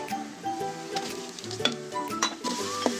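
Chopped onion, ginger and garlic hit hot soybean oil already holding bay leaf, cardamom, clove and cinnamon for a beef tripe bhuna, giving a steady close sizzle with light stirring scrapes and a few sharp clinks, no voices.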